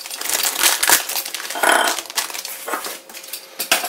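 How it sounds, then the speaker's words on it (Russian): Crinkly rustling of a small plastic bag being opened to unpack an E14-to-E27 lamp socket adapter, steady close handling noise with sharper crackles and light clicks throughout, no voices. "Распаковываем."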